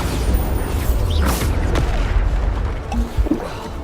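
Bombarda spells explode in Hogwarts Legacy combat, giving loud, continuous booming blasts and rumbling impacts that overlap with scattered cracks and pops throughout.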